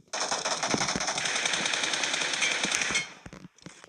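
Rapid automatic gunfire from a shooter video game rattles in a dense, loud continuous burst for about three seconds, then stops, followed by a few scattered shots.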